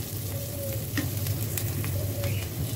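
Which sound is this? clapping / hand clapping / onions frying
onions frying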